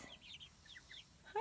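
Chickens cluck softly and chirp in their new coop on a homestead, a few scattered calls over quiet background, ending with a sharper brief squawk.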